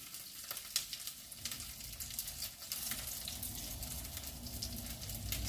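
Buckwheat and zucchini fritters sizzle and crackle steadily in a hot pan, with quiet scraping and shifting of food in the oil.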